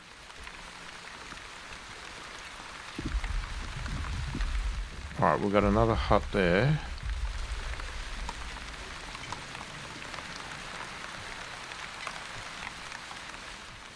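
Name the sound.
light rain in video game The Wandering Village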